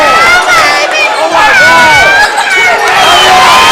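Spectators at a high school basketball game, Independence against St. Helena, cheer and shout loudly and continuously, a dense wall of excited voices filling the gym.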